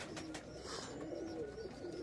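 Tippler pigeons cooing in a loft, soft repeated coos close by over a steady background murmur.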